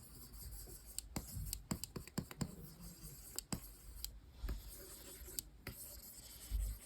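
A pen nib scratches across a fresh Gaoman PD1900 pen display screen in quick, close strokes and taps, with a faint dry rubbing between them and no talking.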